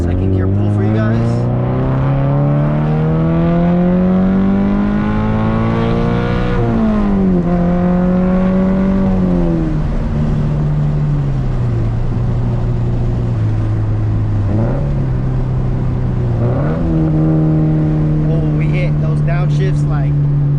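A Toyota FRS accelerates hard in second gear, the engine note climbing loud and close, then dipping with throttle changes and downshift blips before rising again; talk drifts in faintly under the engine.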